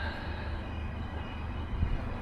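Low, steady rumble and rolling clatter of a passenger train going by at moderate distance, continuous throughout with no voices.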